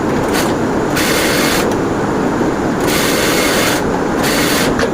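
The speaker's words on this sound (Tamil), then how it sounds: "உடம்பை பிடிச்சி தைச்சிக்கலாம்." A sewing machine stitches the body of a blouse, running in a loud, close, steady mechanical whir, with several short pauses and restarts and no voices.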